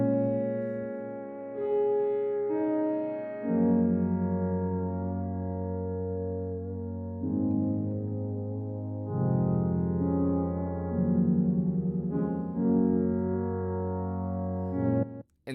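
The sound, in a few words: synth pad preset from Shearwater piano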